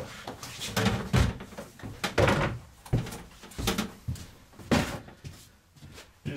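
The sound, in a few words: drawers being pulled out of a camper cabinet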